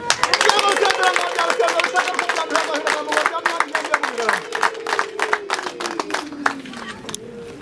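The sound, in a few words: parents ululating and clapping at wedding dowry ceremony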